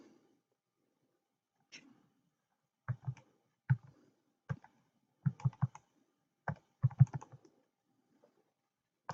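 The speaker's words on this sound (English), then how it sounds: "if I do that division, which will take me a second to type that long number" Clustered key presses on a computer keyboard as a long number is typed, quiet and close, with irregular bursts of clicks separated by short pauses in an otherwise silent room.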